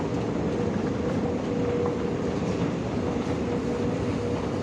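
Steady dense rumble and rush of an MRT metro train in Bangkok, a continuous roar at constant loudness with no distinct clacks and no voices.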